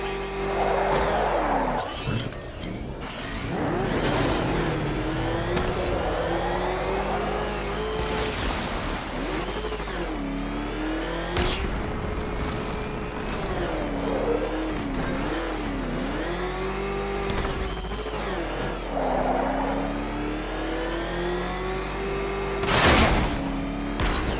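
Engine of a ramshackle car driven in the video game Batman: Arkham Knight, a steady loud motor drone with revving swells and occasional impacts, under game music and effects.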